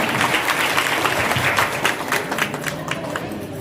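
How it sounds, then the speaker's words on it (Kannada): A crowd at an International Women's Day celebration at a municipal council premises applauds loudly to welcome a guest, a sustained wash of many hands clapping that gradually thins toward the end. "ಅವರಿಗೆ ಜೋರಾದ ಚಪ್ಪಾಳೆಯನ್ನು ನೋಡ್ತಾ ಸ್ವಾಗತವನ್ನು ಕೋರೋಣ"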